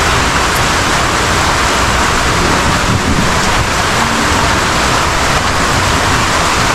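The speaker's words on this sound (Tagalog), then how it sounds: "Umuulan pa." Steady, loud rain pours down outside along a flooded street on a rainy Christmas, a dense unbroken hiss with no pauses and no voices.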